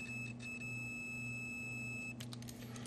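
A digital multimeter gives a steady continuity beep while testing a light switch wired with two conductors, a single sustained tone running nearly three seconds then cutting out, heard close and clear.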